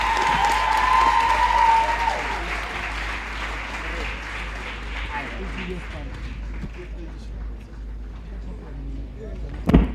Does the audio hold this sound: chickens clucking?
no